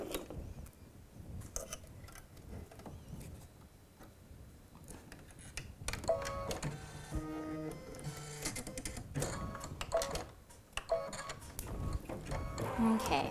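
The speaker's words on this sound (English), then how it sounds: "for this next bit, we're going to stitch out the little nose" An embroidery machine stitches out a small nose, a steady rapid mechanical ticking and whirring that grows busier and louder partway through, close by with no talk.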